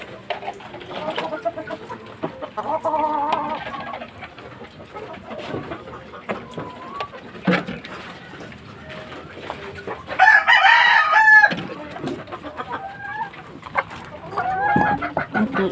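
Young gamecock stags and hens cluck and crow nearby, with one loud crow standing out midway among scattered clucks and barnyard noise.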